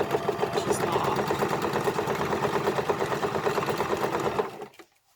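Sewing machine straight stitching fabric at about 2.5 stitch length, a close, rapid rhythmic whir running steadily for several seconds before stopping abruptly.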